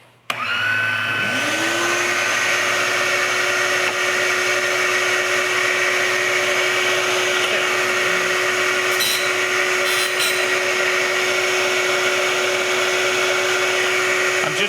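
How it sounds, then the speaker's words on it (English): A shop vacuum hooked to a woodworking saw's dust attachment spins up and runs continuously, a loud steady whine and roar with a tonal hum that holds unchanged for over twelve seconds. "And I've set up a vacuum attachment here."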